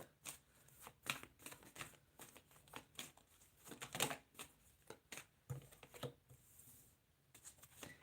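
Tarot cards shuffled and drawn during a live reading, with rapid papery riffles and soft slaps in irregular bursts, quiet and close, no talking.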